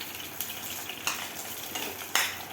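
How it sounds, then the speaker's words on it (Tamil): Dried red chillies, curry leaves, mustard seeds and urad dal fry in hot oil for brinjal kichadi, with a soft crackling sizzle and a few sharp spoon clinks against the pan. "இப்போது வரமிளகா கருவேப்பிலை கடுகு உளுத்தம்பருப்பு எல்லாம் சேர்த்தாச்சு இதை நல்லா வதக்கிக்கோங்க"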